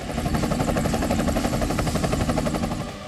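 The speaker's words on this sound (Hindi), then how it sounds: "भारत के स्वदेशी लाइट कॉम्बैट हेलीकॉप्टर प्रचंड ने भी अपने युद्ध कौशल का प्रदर्शन किया।" India's indigenous Prachand light combat helicopter passes loud and close, its rotor thudding in a fast, steady pulse with engine whine throughout, easing slightly at the end.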